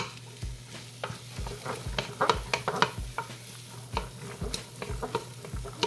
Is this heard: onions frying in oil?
yes